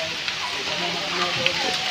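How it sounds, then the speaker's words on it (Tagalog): Rain falls steadily during an outdoor house blessing at a housing project, a continuous close hiss of drops with faint voices mixed underneath. "medyo umulan. Sana hindi lumakas yung ulan po"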